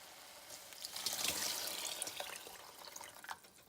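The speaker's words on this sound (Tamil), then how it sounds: "இப்போ அதே கப்பால் 4 கப் தண்ணி ஊற்றணும்." Water is poured from a cup into a pressure cooker holding rice and split moong dal, a soft, close splashing trickle lasting a few seconds, quiet and without talk.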